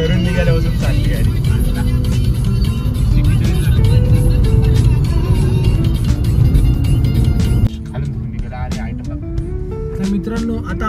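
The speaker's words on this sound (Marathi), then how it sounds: "घरून निघाल्यापासून चालली गाडी" Car on a road trip toward Murud Janjira, heard from inside as a steady loud engine and road drone, with people talking over it and a sudden drop in level near the end.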